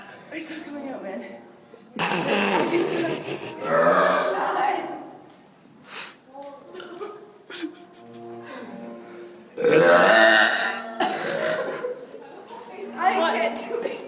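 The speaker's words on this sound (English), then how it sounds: "The burp is spreading people down the hall." Loud, drawn-out burps in a burping contest, several long belches with breaks between, mixed with laughter, grunts and excited talk from people nearby.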